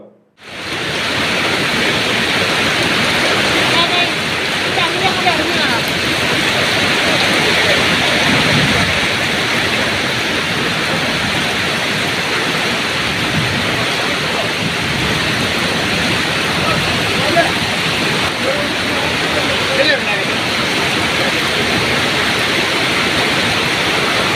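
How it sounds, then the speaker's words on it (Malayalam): A waterfall and an overflowing stream at Kadappara Alunkal near Mangalam Dam roar after heavy rain, a dense, unbroken wash of rushing water that stays loud and constant throughout. "കനത്ത മഴ മംഗലണ്ടാം കടപ്പാറ ആലുങ്കൽ വെള്ളച്ചാട്ടത്തിൽ കുടുങ്ങിയ ആറ് യുവാക്കളെ രക്ഷപ്പെടുത്തി കരകവിഞ്ഞൊഴുകി കടപ്പാറത്തോട്"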